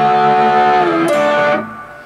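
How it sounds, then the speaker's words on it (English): Electric guitar lick from a lesson on a song solo, a sustained bent note that is released and pulled off, ringing loud and alone before decaying quickly at the end. "Or bend, hold, release, pull off to seven. Sounds like this."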